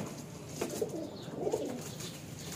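Soft pigeon coos from a balcony, a couple of low warbling calls in quick succession, fairly faint against quiet background noise.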